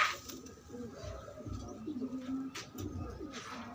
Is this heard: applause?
no